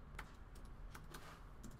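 Faint, quick clicks of keys being tapped on a Mac computer keyboard, a handful of light keystrokes in a quiet room.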